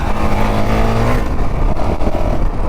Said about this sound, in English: I do not like the sound of this thing revving out, man. It just sounds weak.